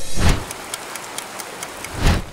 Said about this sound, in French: Oh, la pluie, c'est une catastrophe.